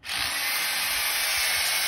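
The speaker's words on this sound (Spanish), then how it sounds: "Estamos poniendo con un taladro y unos tornillos." A continuous loud whirring grind of a power drill driving screws into wood while building a bench, starting abruptly and holding steady close by.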